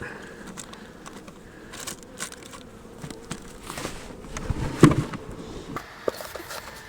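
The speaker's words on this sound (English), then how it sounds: "Smoke these bees down." A steady honey bee buzz hums throughout an open hive being smoked, with soft crackles and a brief clatter near the middle, no voices.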